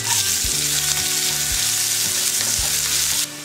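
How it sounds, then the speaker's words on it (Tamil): Mustard seeds, green chili, curry leaves, asafoetida, onion, tomato and eggplant fry in hot oil for a Tamil kathirikai gothsu. The sizzle is loud and close and steady, with a spoon scraping the pan at regular intervals. "கத்திரிக்காய், இது எல்லாமே கொஞ்ச நேரம் வதங்கட்டும்."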